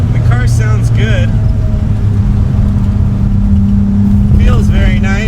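A BMW E30 engine drones steadily at low pitch while the car is driven, staying constant and prominent beneath someone talking throughout.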